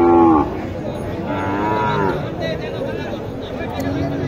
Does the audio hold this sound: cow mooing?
yes